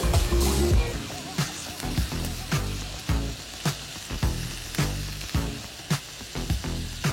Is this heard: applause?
no